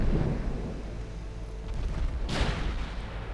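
Warship guns boom in the naval video game Ultimate Admiral Dreadnoughts, one heavy rumbling blast at the start and a sharper second report later, over continuous low battle rumble.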